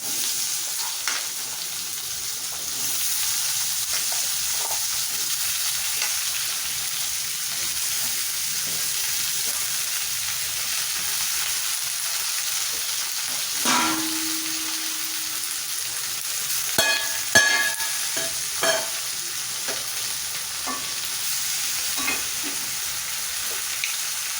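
Fish curry with potatoes and onions fries in a pan with a constant close sizzle and stirring, and a few utensil clatters and knocks come near the end.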